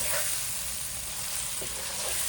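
Eggplant coated in masala sizzles and fries steadily in a hot pan, a continuous close crackling hiss with no pauses and no one talking.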